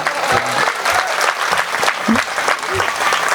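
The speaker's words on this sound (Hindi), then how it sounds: "एक बार मेरे सम्मान में भी ताली बजाइए" Audience at a Hindi poetry gathering (kavi sammelan) breaks into sustained applause, a dense wash of clapping lasting throughout, with a few voices calling out over it.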